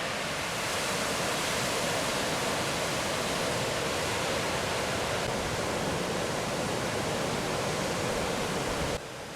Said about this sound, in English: The calm, tranquil pool in front of the floodgates is now an angry pool of churning, aerated water.